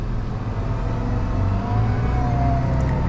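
A Valtra T235 tractor drives along, its engine a steady, fairly loud low drone with a smooth hum and slight rise in load, no talking.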